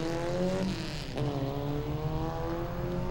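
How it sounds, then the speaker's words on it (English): A super truck at Langley Speedway runs its victory lap, the engine droning steadily with rising and falling pitch as it circles, moderately distant and alone. "Robbie Davis taking his victory lap"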